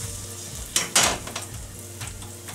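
Corn and zucchini fritters sizzle in a pan after being flipped, with a steady frying hiss and a couple of louder bursts of spatter and utensil contact near the start. Close and clear, with no talking.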